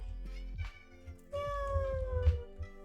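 A cat meows clearly up close, a drawn-out cry with a shorter call before it, over faint background rustling.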